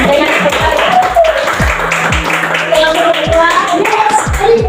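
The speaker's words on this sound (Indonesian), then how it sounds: "bagus, tepuk tangan" Rhythmic group clapping in an elementary science classroom, a few irregular claps mixed with children's chatter and voices throughout, moderately loud and close.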